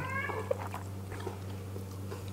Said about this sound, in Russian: Кот тоже просит.